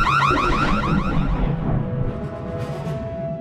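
Alarm in the video game Minecraft, a loud warbling siren that sweeps rapidly up and down before cutting to a steady tone, close and alone.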